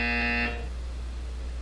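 A game buzzer in Portal 2 blares loud and steady for about half a second with a harmonic tone, then cuts off, leaving only low background hum.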